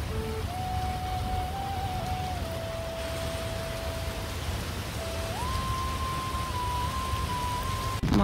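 Steady rain falls outdoors in a continuous dense hiss, with a thin, wavering high tone running over it.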